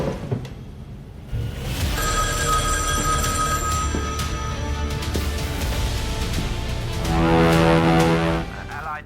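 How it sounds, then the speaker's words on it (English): A telephone at a German coastal post on the night of D-Day rings in sustained, bright metallic tones over a low rumble, growing louder toward the end. "The phone rings again a short while later."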